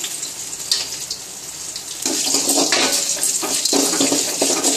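Cashew nuts sizzle in hot coconut oil for coconut rice, a close, steady frying hiss that swells louder partway through, with no talking.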